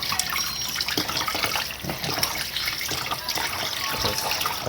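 Tap water running steadily into a sink during dishwashing, with a continuous splashing wash close by and small clinks under it.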